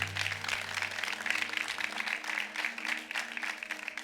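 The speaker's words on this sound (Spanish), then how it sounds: "Pues den un fuerte aplauso al Rey de Reyes." A church congregation applauds during a sermon with steady, full clapping throughout, while low sustained keyboard tones hum underneath and drop away partway through.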